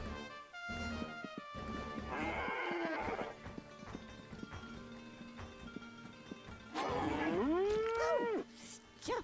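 A cow moos in Conker's Bad Fur Day, two long sliding lowing calls standing out near the end over busy game music and effects, with earlier bellowing tones layered into the soundtrack.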